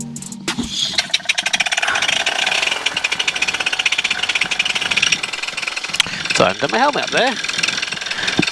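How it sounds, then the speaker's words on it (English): A light aircraft's propeller engine idles steadily throughout, a continuous droning hum under someone speaking close to the microphone. "Sorry for the engine noise in the background."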